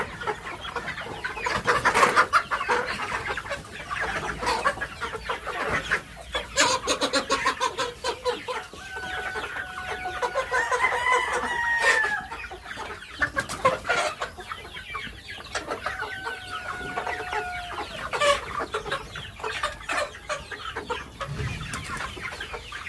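Backyard chickens cluck and squawk in irregular bursts, several birds close by, with short rising calls standing out over a busy, uneven farmyard background.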